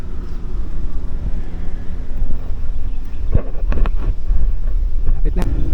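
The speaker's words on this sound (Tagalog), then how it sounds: "Lakas ng hangin." Strong wind roars steadily against the microphone on a hot uphill bike climb near Sitio Tala, a continuous low rumbling buffet with a few brief sharper knocks.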